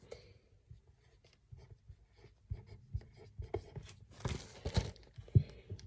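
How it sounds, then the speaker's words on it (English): A pen or pencil writes the number 11 by hand on paper with soft, close scratching strokes and small taps, quiet and alone. "I'm going to go ahead and write 11 in my number box"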